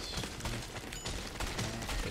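Dense, continuous gunfire from the Drill Core video game, a rapid crackle of shots blurring into a steady fusillade throughout, with no voice over it.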